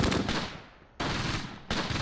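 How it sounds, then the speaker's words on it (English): Bursts of machine gun fire in the Close Combat World War II strategy game: a long loud burst that decays, then two more sharp bursts, heavy and continuous with no talking. "Uh-oh. Machine gun fire."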